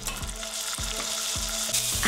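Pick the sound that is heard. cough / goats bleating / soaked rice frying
soaked rice frying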